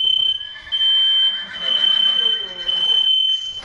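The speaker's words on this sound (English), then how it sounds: "that's my alarm." A steady high-pitched electronic alarm tone beeps continuously at close range, with rumbling background noise and talk underneath.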